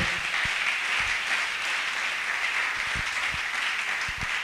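A church congregation applauds and claps together in praise during a worship service, a steady dense wash of many hands holding even and loud throughout with no talk over it.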